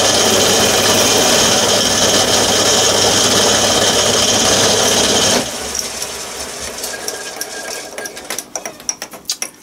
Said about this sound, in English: So I will transfer this over into the lathe and we'll skim this down to the right thickness.